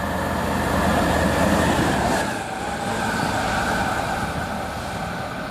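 A Class 66 diesel locomotive running light engine passes on the West Coast Main Line at Tamworth, a loud rumbling growl with wheel noise that peaks early and then eases as it moves away.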